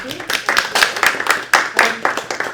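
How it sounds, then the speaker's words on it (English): An audience at a Blockchain Women livestreamed event applauds in a dense, steady round of clapping that holds at a fairly loud level for a couple of seconds. "I just would like to give Shepherd Malin a round of applause for their support"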